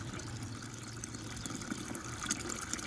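Water splashes and trickles steadily as a female dog is bathed, a continuous close pouring sound with small irregular splashes.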